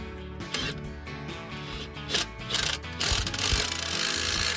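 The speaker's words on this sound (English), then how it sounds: "I like reinstalling these bolts and tightening them down" A ratchet tightens the filter housing bolts on a semi truck, giving short bursts of mechanical clicking over a steady tonal background hum, growing louder and denser toward the end.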